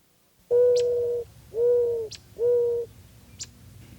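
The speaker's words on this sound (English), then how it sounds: "Here's the classic wild dove of North America." A wild North American mourning dove gives three clear, loud, drawn-out coos in slow succession, close up and alone, with quiet ambient sound between them.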